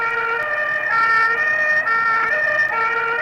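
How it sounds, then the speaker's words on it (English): An ambulance siren wails loud and close while racing through the streets of Rome in 1981, its rising and falling tone sounding continuously without any voices. "an ambulance races through the streets of Rome"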